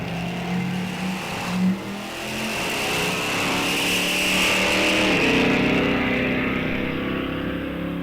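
Drag racing cars, a 1971 Duster and a 1976 Vega, rev loudly and pull away with a sustained rising engine roar that stays strong throughout.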